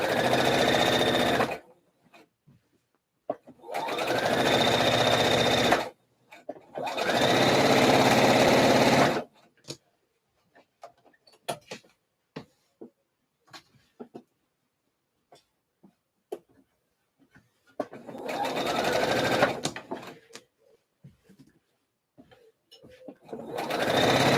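A domestic sewing machine stitches a saltwater slip dress in three long, loud bursts of fast, steady running, then a final burst after a long pause. Between bursts there are quiet clicks and fabric handling.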